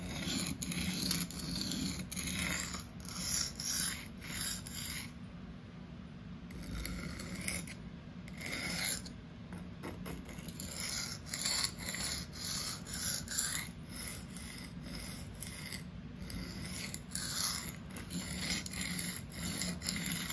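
A REX-45 steel knife is drawn freehand along an extra-coarse sharpening stone from tip to heel. Repeated rhythmic rasping strokes come close and steady, with short pauses between passes.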